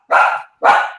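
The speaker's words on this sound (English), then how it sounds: "Ron, is there any way to mask the uh, noise of the dog barking?" A dog lets out two loud, close barks, each sharp and brief, separated by a short silence.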